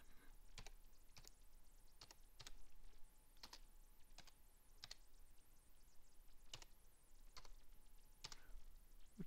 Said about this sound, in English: Type in Misty Putzo